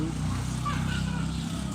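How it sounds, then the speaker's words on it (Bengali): A motorcycle engine drones steadily nearby, a low continuous hum as it rides past, with faint background noise around it. "ওই যে চলে গেল হুন্ডা"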